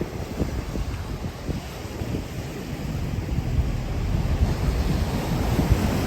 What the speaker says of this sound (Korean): 파도 치는 거봐